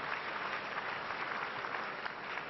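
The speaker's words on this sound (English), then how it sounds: "Clap for her." A church congregation claps together in a steady, dense roar of many hands that fills the space evenly from start to end, with no speech above it.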